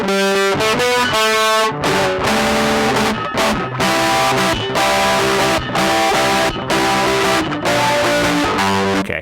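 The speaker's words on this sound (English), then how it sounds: "this thing is it's getting pretty microphonic here with the more distortion" Irish bouzouki played through a distortion pedal, loud and continuous, with strummed chords and picked notes buzzing with heavy overdriven sustain throughout, no voices.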